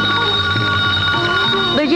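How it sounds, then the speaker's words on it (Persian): A telephone rings with a steady electronic tone while a person speaks over it. "زنگ تلفن است."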